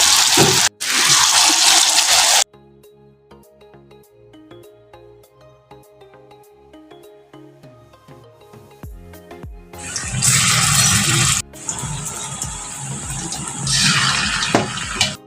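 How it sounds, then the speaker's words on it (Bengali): Soybean pakoras frying in hot oil, a loud hissing sizzle at the start and again toward the end, with a quieter stretch of soft background music in between. "বেঁচে থাকা পকোড়াগুলো আমি ভেজে নিচ্ছি।"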